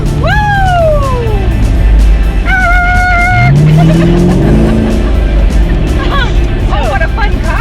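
A convertible's engine roars loudly while driving, with rising and falling revving tones and steady drive rumble. Excited voices whoop over it.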